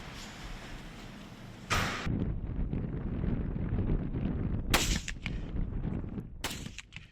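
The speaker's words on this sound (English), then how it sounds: "Getting ready to go shoot our guns." Hunting rifles fired at a range to check their zero, heard as a few sharp, loud reports against steady wind noise on the microphone, with no talking.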